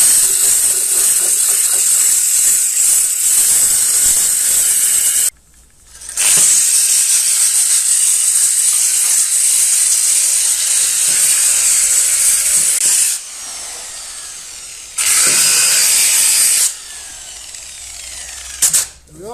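An angle grinder fitted with a new disc grinds the body of an old Wessex lawn mower in a workshop, a loud close continuous whine with two short pauses where it spins down and restarts.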